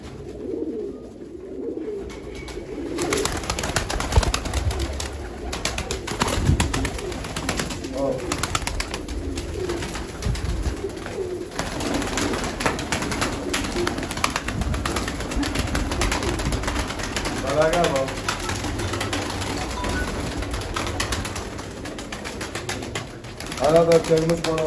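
Turkish tumbler pigeons, show birds of the play-pigeon type, coo low and repeatedly in steady close murmurs, with someone talking over them throughout.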